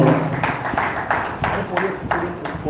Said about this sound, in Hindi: और एक बार जोरदार एक कलेक्टिव तालियां हो जाए सभी विनर्स के लिए